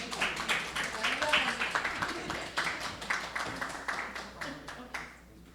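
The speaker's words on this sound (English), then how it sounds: "Another round of applause for Lori." An audience applauding after a pitch presentation at a business accelerator's final event, a fairly steady round of clapping from a crowd that fades out at the end.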